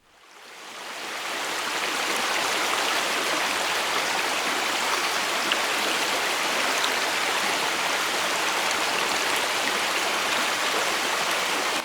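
A stream or waterfall rushes with a steady, broadband hiss that swells in over the first two seconds. After that it holds at a constant level and stays dense and unbroken, with no voices.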